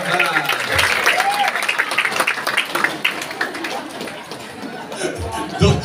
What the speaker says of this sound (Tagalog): milyon-milyon palakpak muna para kay Coach John